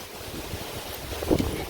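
Strong wind blowing outdoors, a steady, loud rumbling buffet across the microphone that swells into a stronger gust near the end, with no voices.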